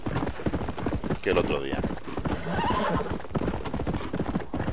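Horse hooves clip-clop in a steady rhythm while riding in Red Dead Redemption, with a horse whinny partway through, all under someone talking in Spanish over the game.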